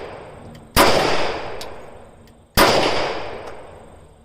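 Two loud, close shots from a new S&W M&P 10mm pistol firing full power ammo, each a sharp crack with a long echoing decay, spaced nearly two seconds apart outdoors.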